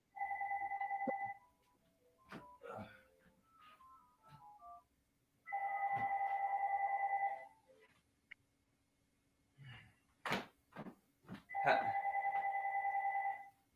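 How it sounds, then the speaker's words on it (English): An old-school landline house phone rings in repeated electronic trill bursts, about three rings spaced several seconds apart, with scattered clicks, knocks and brief tones between them. The ringing is clear and moderately loud, and no voices are heard. "Have an old school house phone"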